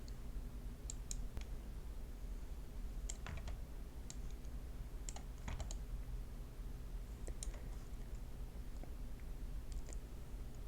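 A computer mouse clicks sparsely and irregularly while navigating settings in New Outlook, faint sharp taps over a quiet steady hum.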